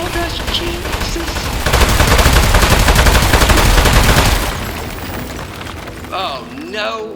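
Heavy sustained gunfire in the Aperture Desk Job video game, a dense roaring barrage that swells in the middle and then tapers, with electronic game sounds and voices near the end.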